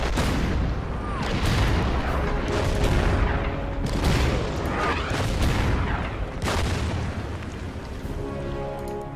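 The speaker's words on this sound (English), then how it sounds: "Firing on the KV." Artillery in the Order of Battle war game fires on a KV tank, with a rapid series of heavy booms and blasts that overlap into a dense, rumbling barrage for the whole stretch.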